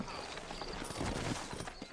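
Horse hooves clip-clopping in the Red Dead Redemption video game, a quick, even run of close hoof knocks over a dense outdoor ambience, with a hint of voice beneath.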